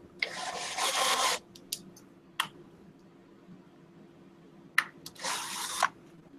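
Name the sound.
drill with leather punch cutting veneer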